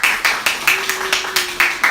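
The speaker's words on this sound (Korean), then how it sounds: "박수." Congregation at a Sunday church service clapping in a steady, quick rhythm, about nine crisp claps in two seconds, close and clear with no talking over it.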